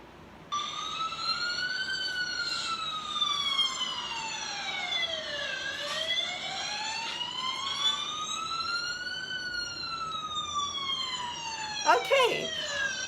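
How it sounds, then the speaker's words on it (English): A wailing siren rises and falls in long sweeping cycles, fairly loud and steady, with a brief sharper burst of sound near the end. "here's a sound of the fire engine for you to imitate."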